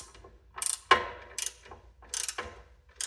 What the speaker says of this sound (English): the whole thing is spinning as I turn that nut